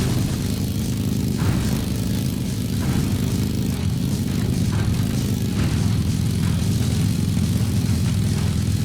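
Droning rotor and engine hum of a helicopter in the video game Fuel, a steady low buzzing that runs unbroken and fairly loud throughout with no voices.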